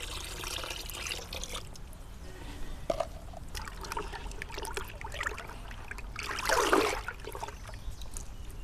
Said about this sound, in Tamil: அடுத்ததாக நம்ம மாட்டுக்கோமை சேர்த்துக்கலாம்.